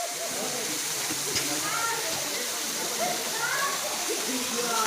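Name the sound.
Gandahati waterfall rushing water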